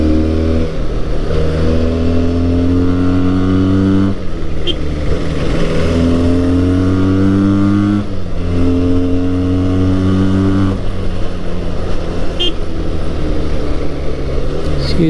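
A Benelli 302R 300cc sports motorcycle on a ride to Yelagiri, its engine droning loud and steady throughout, with the pitch rising through the gears and dropping at each shift.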